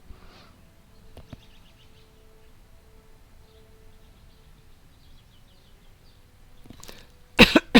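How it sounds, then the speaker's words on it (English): A person gives a short, sharp cough close to the microphone near the end, after a stretch of quiet room noise with faint chirps. "it's just a cough"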